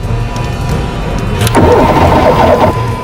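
A car engine tries to start: a continuous low rumble, then a louder cranking surge about halfway through that fades back without catching, close and alone.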